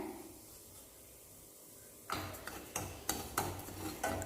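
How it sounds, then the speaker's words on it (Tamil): Semolina (rava) roasting in ghee in a pan is stirred with a spoon. After a quiet start, it gives rhythmic, close scraping strokes that repeat steadily to the end. "ரவை நல்லா வறுத்துக்கோங்க"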